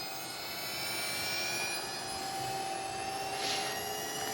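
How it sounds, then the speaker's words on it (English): A Losi Promoto-MX 1:4 scale RC dirt bike's electric motor whines like a small jet, a steady high-pitched tonal hum with a constant airy hiss, close and unbroken throughout. "Sounds like a little jet engine."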